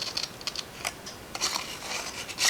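Scissors cut through paper in a run of crisp, close snips, several quick cuts in uneven rhythm with short pauses between them, fairly quiet.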